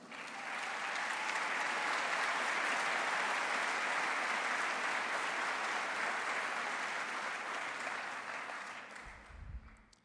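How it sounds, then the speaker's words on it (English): A large audience at a mayor's annual State of Metro address in Nashville breaks into sustained, even applause that holds for about nine seconds before fading out. "Dr. Lawless, will you please stand and get another round of applause?"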